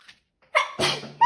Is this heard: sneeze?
yes